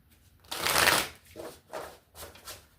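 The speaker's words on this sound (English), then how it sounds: "let's look at the Akashic Records Oracle cards for you." A deck of Akashic Records Oracle cards is shuffled up close, one long riffling burst followed by two shorter shuffles.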